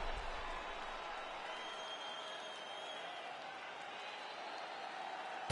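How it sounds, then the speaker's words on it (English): A video game crowd at a UFC fight applauds and cheers after a round, a steady wash of clapping and crowd noise at moderate volume that holds evenly throughout. "So the crowd voicing its appreciation after that round."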